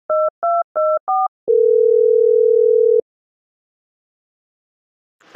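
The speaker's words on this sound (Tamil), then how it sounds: "அவங்களுக்கு ஃபோன் பண்ணி ராஜா அண்ணன் கிட்ட எந்த விஷயத்தையும் சொல்ல வேணாம்னு சொல்லுங்கக்கா" Phone dialing tones for an outgoing call in a cartoon: four short two-tone beeps in quick succession, then one long steady tone, then silence, loud and clean with nothing else.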